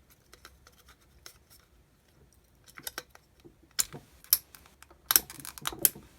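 The spray-selector knob on a Melnor hose nozzle clicks as it turns, a run of small sharp close ratcheting clicks, sparse at first and then denser and louder toward the end.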